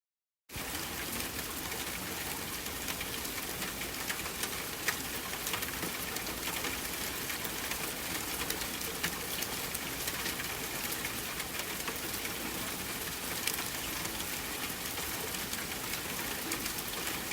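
Heavy rain pours steadily at night around a village on the road to Kunwarpur, a dense continuous hiss with no letup from start to finish.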